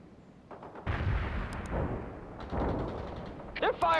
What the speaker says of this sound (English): They're firing at us.